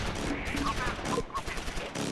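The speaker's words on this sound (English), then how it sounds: "We're taking AT gunfire." Dense battlefield gunfire, including anti-tank fire, in the video game Close Combat IV crackles continuously, with bursts and rattling shots layered over rumbling noise, loud and close throughout.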